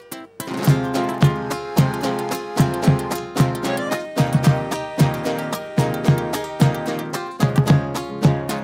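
A folk group at a national folklore festival plays the huapango "La Malagueña" on plucked and strummed strings, with a crisp, driving rhythm of accented strokes that is loud and close and has no singing.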